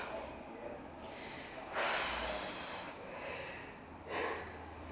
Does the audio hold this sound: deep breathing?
yes